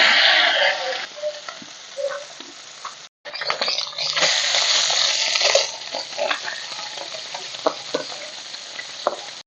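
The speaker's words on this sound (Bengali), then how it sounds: "কড়াই সর্ষের তেল দিয়ে দিচ্ছি, মাছগুলো ভেজে নেব" Salted, turmeric-coated fish fry in mustard oil in a wok with a loud, continuous close sizzle and crackle, briefly cut off, then resuming with spatula clinks and stirring.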